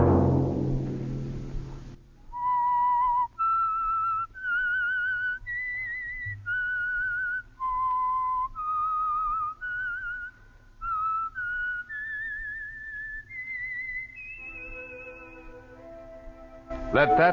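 The whistled signal theme of The Whistler radio drama: a lone, clear melodic whistle of rising and falling notes held over a low orchestral bed, closing into a sustained orchestral chord.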